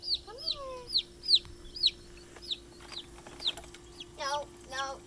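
Several farm chickens cluck and squawk in short, irregular bursts while waiting to be bathed, fairly close and alone, with a steady low hum in the background.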